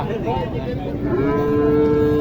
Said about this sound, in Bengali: এই গরুটার খুব ভালো মানের একটা গরু সাহিওয়াল না সিন্ধি জাতের একটা গরু